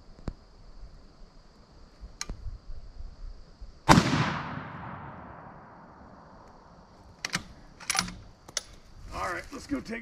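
A single sharp, loud 6 Creedmoor rifle shot firing a 110 grain A-tip bullet cracks out at close range and rings away in a long fading tail, set between faint clicks and handling noises.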